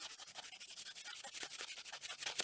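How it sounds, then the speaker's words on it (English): Quiet, rhythmic rubbing strokes of fine abrasive against jewelry wire on a wire-wrapped pendant, removing hammer marks, a soft steady back-and-forth scratching close up. "a quick demonstration on how and when you might sand your wires"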